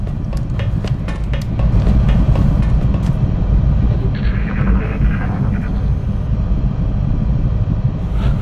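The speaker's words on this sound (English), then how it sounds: "I could have sworn I just heard another drone." A drone in the XCOM: Enemy Unknown video game, heard during a base assault as a steady, loud low-pitched engine-like hum and drone with a few brief sharp clicks early on, lasting the whole stretch without speech.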